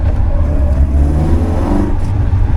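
A tuned 1979 Austin Morris Mini engine revs close by with a loud, gruff, throaty rumble, rising and settling in short surges with no voices over it.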